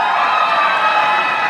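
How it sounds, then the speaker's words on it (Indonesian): Steady audience applause at a regional gubernatorial debate in North Sulawesi, an even wash of clapping and light cheering, close and continuous. "Mari kita berikan tepuk tangan apresiasi untuk masing-masing calon"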